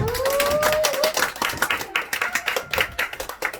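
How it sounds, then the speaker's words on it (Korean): Audience at a home meeting clapping to welcome a speaker to the front, a burst of applause with a tone sliding over it that thins into scattered individual claps near the end. "큰 박수로 모시겠습니다."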